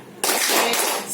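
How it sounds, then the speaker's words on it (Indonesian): A group of people does a rhythmic spirit clap together: a short burst of loud, close, dense clapping that starts abruptly and lasts about a second. "Ya, tepuk semangat."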